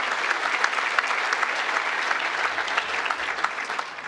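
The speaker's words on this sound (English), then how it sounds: "Stand up and give yourselves a round of applause." An audience applauds at the MacDowell Medal Day ceremony honouring Yoko Ono. The clapping is sustained and even, a crowd-wide patter heard clearly and at close range for about four seconds without interruption.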